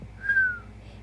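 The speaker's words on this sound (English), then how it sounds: "You looked at the mirror and whistled." A single short, faint whistle, one rising-then-level tone lasting about half a second over a quiet background.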